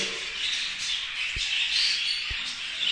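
Spangle budgerigars in breeding cages give a dense wash of squawks and chatter, close and continuous, with two brief knocks from the cages and no talking.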